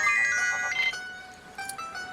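A phone ringtone plays a bright electronic melody of sustained tones, clear and close, with no voices.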